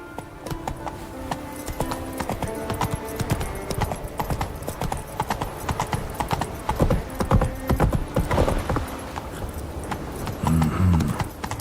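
Horse hooves clip-clopping at a gallop in The Witcher 3 video game, a dense rhythmic drumming of hoofbeats with a short horse whinny near the end, loud and close.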